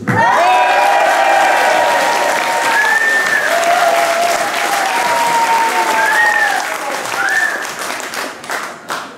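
Loud, sustained audience applause at an outdoor jazz festival concert, dense clapping with a few whistles and cheers, fading into scattered claps at the end.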